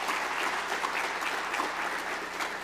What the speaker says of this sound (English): So I want to give all y'all a round of applause for being here